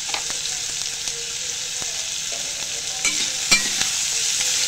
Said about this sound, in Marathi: छानपैकी हा कांदा आता आपल्याला लाल होईपर्यंत परतून घ्यायचा आहे